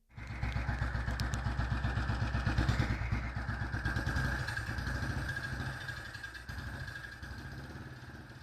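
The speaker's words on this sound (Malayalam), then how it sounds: "ആരാ ബൈക്കിൽ പോയത്?" A motorcycle starts up close by with a steady chugging idle, then rides off, its engine note gradually fading into the distance with no talk over it.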